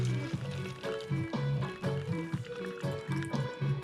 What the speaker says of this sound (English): Boiling hot water.